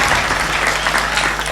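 Audience applause at a kavi sammelan, a Hindi poetry recital: dense, steady clapping from a large crowd filling the whole moment, close and fairly loud.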